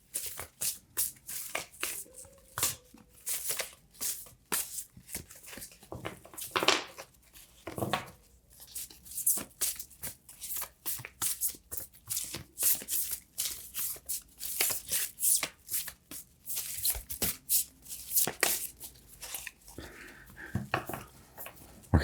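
Tarot cards being shuffled by hand at close range, a long run of crisp riffling bursts and soft slaps coming in irregular clusters, fairly quiet, with no talking.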